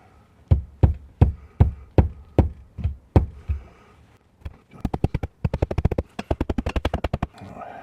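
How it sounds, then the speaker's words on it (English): Wall anchors are hammered into drilled holes for a shelf, sharp close hammer blows, first a slow evenly spaced series, then a brief pause and a fast run of lighter rapid taps. "Alright, so now I'm hammering in the anchor."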